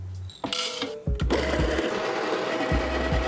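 Baratza Encore burr grinder grinds coffee beans at setting 4 for espresso, starting with short clicks and a brief whir, then settling into a steady close motor drone with rhythmic low thumps.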